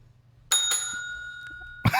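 A single bicycle bell rings sharply and close, its bright metallic tone ringing out for over a second, followed by a brief cough or throat clearing in a quiet podcast room.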